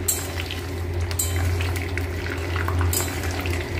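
Curry leaves fry in hot oil, giving a close, continuous bubbling crackle with some hiss, steady throughout with no one speaking.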